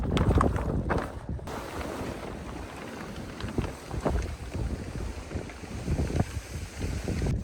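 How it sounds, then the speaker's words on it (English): Gusty wind on a market garden buffets the microphone in loud, uneven rushes, with rustling and movement underneath. "if you wonder why it's a little bit windy and how the stuff's moving around"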